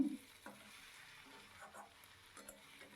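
New potatoes with Kashmiri chili powder and spices are stirred in a frying pan, soft sizzling under a few quiet scrapes of the spatula, faint and close.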